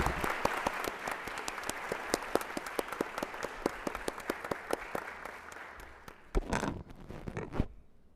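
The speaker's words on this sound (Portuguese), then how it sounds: "novamente uma salva de palmas" Audience applause at an information society policy event: dense, steady clapping from a crowd that thins out into a few scattered, louder claps near the end.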